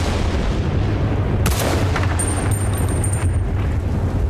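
Battlefield Bad Company 2 campaign combat brings heavy gunfire and booming artillery explosions, with a loud blast midway over a continuous low rumble and crackling, and no talk.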